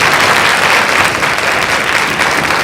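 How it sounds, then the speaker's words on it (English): An audience claps warmly after a session on women of faith and power, a broad, even roar of many hands sustained at full strength from start to finish without any talk. "Can we just give Grace a round of applause?"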